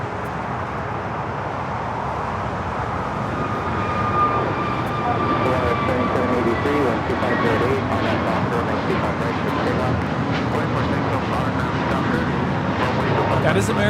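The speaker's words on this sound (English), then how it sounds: "That is American Airlines 2155 taking off to Miami, Florida on the A321neo." An American Airlines Airbus A321neo takes off at LAX with a broad, steady jet roar that holds throughout and swells slightly partway through, while people talk nearby.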